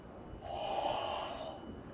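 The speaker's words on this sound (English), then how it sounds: "And the out-breath." A forceful out-breath during a qigong breathing exercise, one breathy snort-like exhalation that swells and fades over about a second, close and fairly soft.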